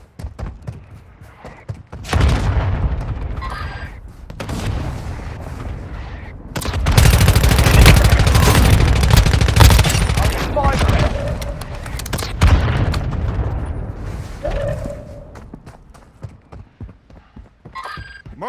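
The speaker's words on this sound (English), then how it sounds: "Mortar strike inbound now." Mortar strike explosions in Warzone Mobile gameplay, a sustained barrage of booming impacts and rumbling blasts that swell into a dense, loud stretch before tapering off, with game noise around it.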